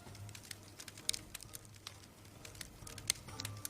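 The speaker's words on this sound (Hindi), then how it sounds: "मूवी में आग की आवाज कुछ ऐसे बनते हैं" Foley fire for film is made by hand, giving faint, irregular crackles and crinkling pops scattered over a quiet low hum, close and delicate rather than roaring.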